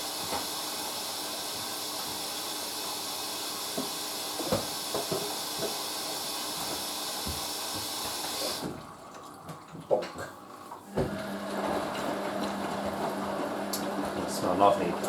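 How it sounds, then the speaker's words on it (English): A Hoover A3060 Electronic 1100 washing machine fills with water for its final rinse, giving a steady rushing hiss that cuts off partway through, followed by quieter gurgles and faint clicks. "So almost filled for final rinse."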